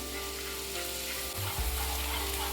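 Onions half-fried in ghee in a pan for paneer bhurji, a steady, fairly faint hiss under a constant low hum, with a brief thump partway through.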